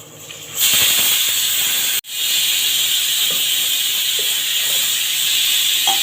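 A pressure cooker on the stove releases steam in a loud, steady hiss that starts abruptly, cuts out for a moment, then resumes and continues to the end.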